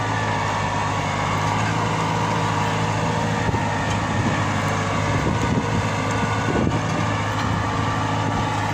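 A Türk Fiat TD 100 D tractor hauls a double plough through a field, its diesel engine holding a steady, unstrained drone, close and continuous, with no speech.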